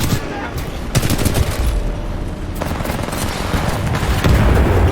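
Rapid gunfire and explosions in a Titanfall 2 multiplayer match, loud dense bursts of automatic shots with heavy booms layered throughout, continuous and close.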